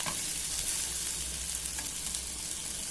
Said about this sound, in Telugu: ఇలా లైట్గా గోల్డెన్ కలర్ వచ్చేంత వరకు వేయించుకోవాలి